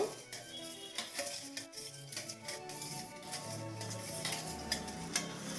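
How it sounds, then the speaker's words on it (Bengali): Continuous stirring of raw mango pickle with asafoetida in a pan, a low sizzle and occasional scrapes, steady and close, with a faint tone running underneath. "এই হিংটা আমি দেব, দিয়ে একটু নাড়িয়ে নেব"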